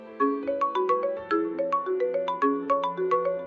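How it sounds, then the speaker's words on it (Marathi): A phone ringtone plays a bright, repeating electronic melody of evenly spaced tones, steady and clear with no voices over it. "फोन आला."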